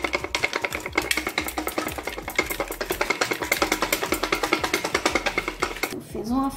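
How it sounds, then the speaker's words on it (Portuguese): A closed pressure-cooker pan of cooked chicken is shaken hard to shred it, producing a rapid, steady rattling and thumping rhythm of meat knocking inside the pot, loud and continuous, then a voice at the end. "E vamos sacudir essa panela aqui, ó. Com muita força, assim."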